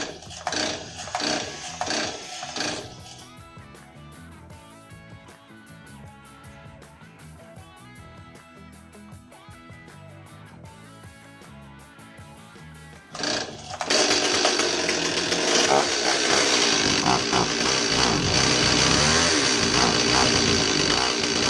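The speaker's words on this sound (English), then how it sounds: "We're going to give this thing a few pulls and see if it'll start." Stihl 026 chainsaw, first a few rhythmic pull-start cord tugs, then the engine sputters briefly before catching and running loud and steady, close by, with no one speaking.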